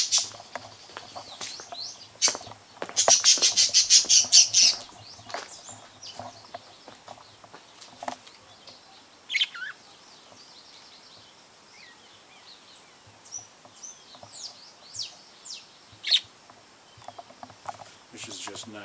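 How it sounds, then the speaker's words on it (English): Songbirds sing just outside a kitchen window on a jungle farm, with bright chirps, trills and short whistled phrases scattered throughout, including a rapid trilling run early on, against quiet surroundings. "And then these are the songbirds."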